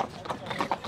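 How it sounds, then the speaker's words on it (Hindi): Large horses walking past, their hooves clip-clopping in a quick uneven patter at moderate distance, with a person talking over the steps. "ये इतने बड़े बड़े घोड़े जा रहे हैं"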